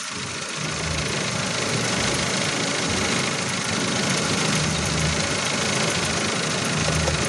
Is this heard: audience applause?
no